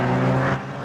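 An East Engineering, David Cousins-built Mazda MX5 race car sweeps past on the Kirkistown circuit, a brief close engine roar that eases off within a second.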